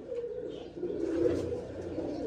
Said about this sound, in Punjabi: ਦੇਖੋ ਉਹ ਗਿਆ ਕਬੂਤਰ ਉੱਡ ਕੇ